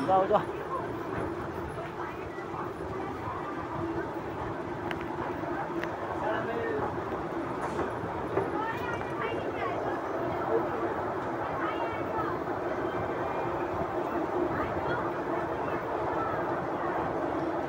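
Busy platform ambience at Bandel Junction railway station, with a continuous broad rumble of trains and station bustle under scattered voices and chatter, steady and fairly loud throughout.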